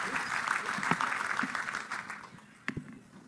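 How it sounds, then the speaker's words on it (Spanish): Audience applause at a banking industry expo panel in Peru, a dense steady clapping wash for about two and a half seconds that fades out, followed by a single sharp knock. "Un fuerte aplauso."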